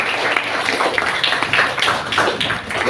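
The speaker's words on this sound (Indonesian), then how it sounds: "Sebelumnya kita tepuk tangan dulu" A classroom group claps together during an Islamic jurisprudence lesson, a dense steady patter of many hands at close range, with voices faintly mixed in.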